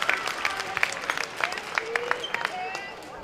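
A Swiss crowd applauds at an indoor hockey match, Austria against Switzerland at the U21 men's indoor European championship. Sustained clapping fills the hall beneath a commentator speaking over it.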